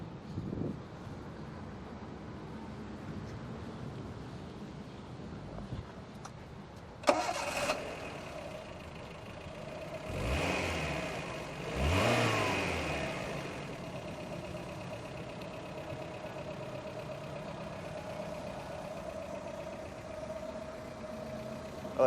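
A Maruti Zen Steel two-door car engine cranks and fires up, revs twice in quick swells, then drops to a steady idle hum with a faint high whine.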